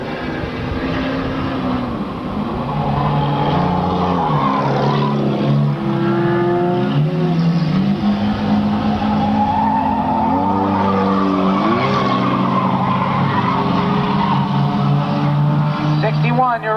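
Race cars circle a track with the leader in a Honda Accord, several engines revving and droning loudly together with rising and falling pitch as they pass, under a commentator's steady play-by-play.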